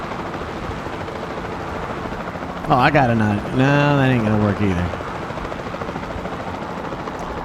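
A helicopter in the video game Tiny Tina's Wonderlands gives off a steady, whooshing rotor drone that runs throughout, while someone talks over it for a couple of seconds.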